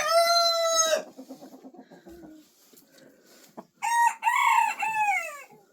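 A Hedemora hen, a cold-hardy chicken breed, in a barn coop: a loud crow-like call, a run of soft clucks, then another loud drawn-out squawking call close by, with no talk.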